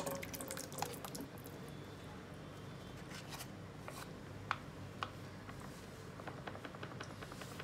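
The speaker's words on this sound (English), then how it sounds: "We are going to pour the contents into the pan." Ready-to-eat MTR chana masala, a chickpea gravy in tomato paste, is emptied from its packet into a pan. A faint, steady wet pour runs throughout, with scattered small drips and clicks.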